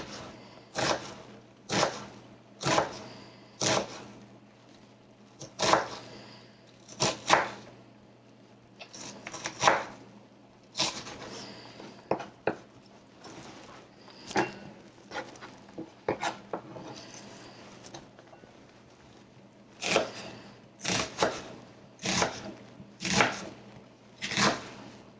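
A knife cuts through potatoes on a board in bursts of sharp, close chops, several quick strokes at a time, separated by pauses, with no talking.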